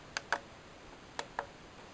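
Four light plastic clicks of buttons being pressed on a Korg M1ex synthesizer, in two quick pairs, faint and close in an otherwise quiet room.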